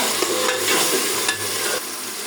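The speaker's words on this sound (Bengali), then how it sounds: "আর অলরেডি মশলা কষানো হয়ে গেছে" Spices frying and being stirred in a pan while cooking beef bones with lentils: a steady close sizzle with scraping stir strokes, fairly loud, no voices.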